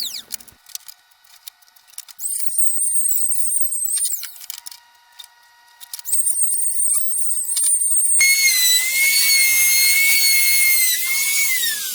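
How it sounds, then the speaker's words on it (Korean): A high-pitched electric sander whines on a wooden wall shelf in bursts, starting and stopping a few times, then runs steadily and louder toward the end, close by. "전기 샌더나 사포를 이용해서 지저분한 부분을 깔끔하게 정리합니다."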